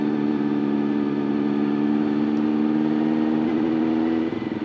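A 400cc superbike engine, a Honda CBR 400, runs steadily with a loud, continuous tone that climbs slightly as it revs, close by and alone, then drops near the end.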